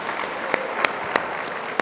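Audience applause at a talk, a steady wash of clapping with a few sharper individual claps standing out, moderately close and short.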